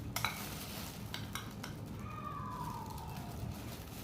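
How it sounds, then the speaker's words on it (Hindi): Turmeric is stirred into about two tablespoons of gel with a spoon in a small bowl, producing soft, faint scraping and a few light clinks over a low steady background hiss. "इसमें हल्दी मिक्स कर लेनी है।"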